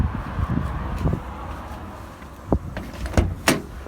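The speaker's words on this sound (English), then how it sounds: "As we can see, the door opens fine" The door of an XR2i hatchback undergoing bodywork restoration, its shell coated in etch primer, opens with a few sharp metallic clicks and clunks close by over a low background hum.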